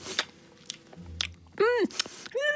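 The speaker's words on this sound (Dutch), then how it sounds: "Hij neemt nog een hap." Sausage bitten and chewed, with short crunchy bites and moist chewing between bright pitched squeaky tones and other voices or sounds nearby.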